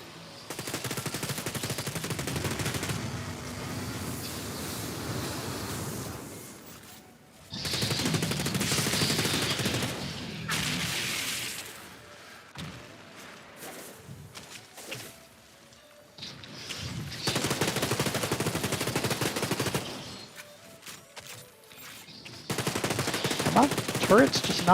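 Turrets firing in the looter-shooter Outriders, with long stretches of dense, loud automatic gunfire broken by short pauses and a few crashing impacts.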